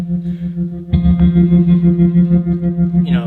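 An electric guitar sounds through a heavy effects pedal, a thick, warbling sustained tone that pulses rhythmically, ending with a sweeping swoosh.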